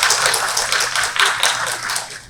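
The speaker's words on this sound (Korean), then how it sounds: "큰 박수 부탁드립니다." Audience applause at a Korean unification education forum welcoming a professor to the lectern, a dense, steady wash of many hands clapping at moderate volume with no talk over it.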